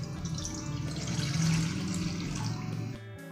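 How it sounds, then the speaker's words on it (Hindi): Water poured from a glass into a kadhai sitting on a gas stove, a steady splashing pour lasting a few seconds and ending abruptly, close and moderately loud with no talking. "कढ़ाई में डालेंगे ये 1 गिलास पानी"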